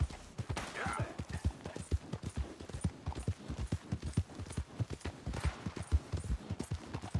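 A horse ridden in Red Dead Redemption 2 keeps up a steady, rapid clip-clop of hooves on the ground, close and continuous, with faint breathy ambience around it.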